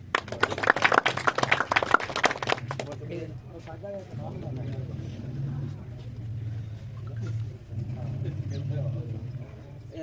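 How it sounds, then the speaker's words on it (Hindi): An audience applauds at a prize-giving ceremony, a burst of dense clapping for about three seconds that then cuts off, followed by a low engine-like hum and someone speaking. "जोरदार तालियां"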